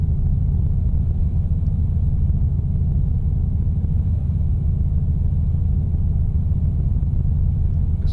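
Steady, loud, low truck engine rumble with side pipes, from a modded trucking simulator convoy, droning continuously without pauses or talk.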